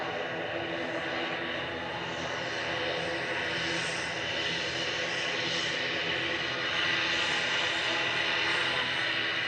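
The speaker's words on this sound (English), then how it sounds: "We have got a noisy prop." Propeller airliner at Manchester Airport, its steady broadband engine roar loud and continuous throughout, rising slightly toward the end as it passes near.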